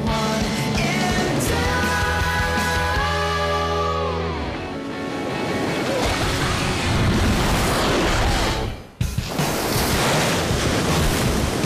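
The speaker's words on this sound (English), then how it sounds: "Perfect day, perfect waves." Ocean waves breaking on a sunny surf beach, a broad steady wash of surf under wind, with a tonal musical sound over the first few seconds and a brief dropout near the end.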